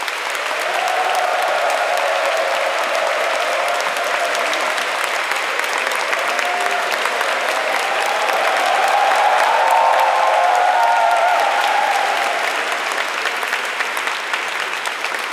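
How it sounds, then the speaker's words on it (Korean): An audience applauds to welcome a priest speaker at an AI ethics lecture event, sustained full-room clapping for about fifteen seconds, loud and steady with light crowd cheering. "파울로 베나티 신부님을 여러분 큰 박수로 맞이해 주십시오."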